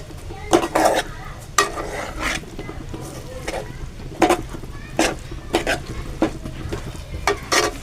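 Matar paneer vegetable curry being stirred and fried, loud repeated scrapes and clanks of a spoon against the pan over a steady sizzle, in an uneven rhythm.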